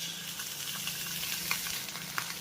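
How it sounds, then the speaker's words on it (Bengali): White sesame seeds being stirred in a frying pan give a soft, faint sizzle, with occasional light scrapes and clicks from the spoon against the pan. "সাদা তিলটাকেও ভালোভাবে নেড়েচেড়ে মিশিয়ে নেবো"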